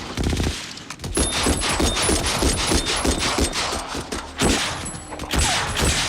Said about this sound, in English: Oh, some good shooting right there.